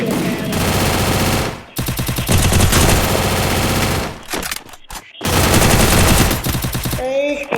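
Video game gunfire rattles in long, loud, rapid machine-gun bursts with short gaps between them, and a voice is faintly heard in the background.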